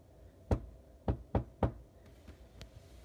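Knocking on a door at a house where family and friends are arriving: four firm knocks, then two softer ones, close and clear, with no talking.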